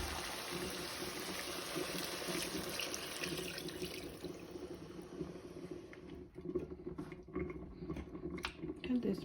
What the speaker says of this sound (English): I'm gonna start going in with the water.